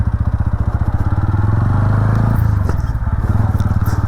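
A TVS Ronin 225 motorcycle rides off-road, its engine thrumming loud and close with a steady low throb that rises briefly as the rider accelerates over rough ground.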